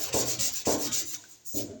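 Hand sanding of body filler putty with a sanding block and 80-grit paper: three rhythmic, close, abrasive rubbing strokes, each a loud scratchy swipe with short pauses between, no talking.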